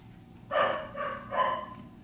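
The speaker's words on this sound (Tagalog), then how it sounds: "nagpakain ng mga aso natin" Dogs bark at feeding time in the early morning, three strong barks in a row over about a second and a half, fairly close and loud against a quiet background.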